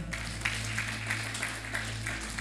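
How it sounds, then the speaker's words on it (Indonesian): A church congregation at an Indonesian afternoon worship service claps in a steady, rhythmic patter of many hands that carries evenly throughout. "Tepuk tangan."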